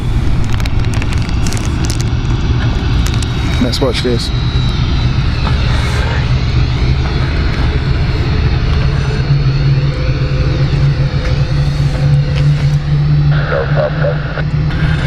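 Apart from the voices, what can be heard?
Swiss airliner engine running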